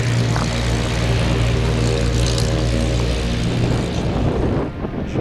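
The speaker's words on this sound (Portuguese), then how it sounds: "Vamos ver uma decolagem aqui, de pertinho." Propeller aircraft taking off from a glider airfield, its engine a loud, steady droning roar heard up close throughout, wavering slightly and thinning toward the end as it pulls away.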